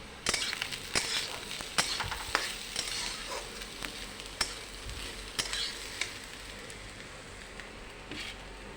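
Chopped potato and eggplant frying in a pan, with a steady sizzle punctuated by sharp scraping and stirring knocks at irregular intervals, close and alone without talk.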